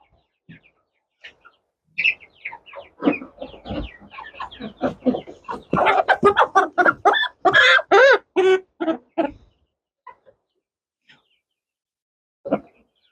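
A Ross 708 broiler chicken, about 67 days old, clucks and squawks during its final weighing, a close burst of rapid agitated calls that fades to scattered sounds.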